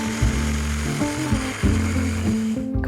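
A food processor blends pesto in a kitchen with a choppy, stuttering motor drone. Its pitch steps up and down in short bursts while the blades churn, and no one speaks.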